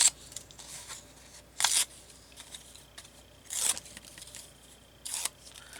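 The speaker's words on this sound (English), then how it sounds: "So now we're going to tear a bunch of these up." Paper is torn into small pieces for journal embellishments, giving three short, crisp ripping bursts spaced a couple of seconds apart, with faint rustling and handling noises between them.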